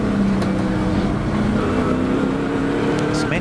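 A 4.6 litre Rover SD1 saloon race car drones steadily on the Knockhill circuit, a loud sustained engine note with other cars audible faintly behind it.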